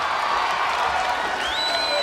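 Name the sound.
crowd cheering wildly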